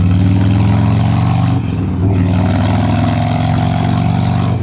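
A motorcycle engine runs loud and close at a steady high drone, dipping briefly once before surging back to the same strained pitch, with no talking over it.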